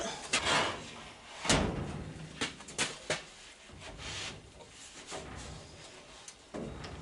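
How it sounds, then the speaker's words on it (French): Glass window pane sliding into the door of a Citroën Traction 11B, giving several soft rubbing and scraping strokes with a few sharper knocks, close up and moderately quiet. "Maintenant, je présente ma vitre dans ma porte. Alors, je la fais glisser dedans"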